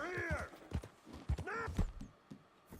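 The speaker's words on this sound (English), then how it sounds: "Oh, that's a horse." Horse sounds in the video game Red Dead Redemption 2: a few hoof clip-clops and whinnying cries, moderately close, with game audio around them.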